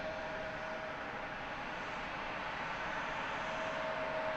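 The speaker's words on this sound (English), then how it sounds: "Can you hear that plane in front of me" Airplane at Harrisburg airport, a steady continuous engine roar at moderate distance, holding an even level throughout without voices.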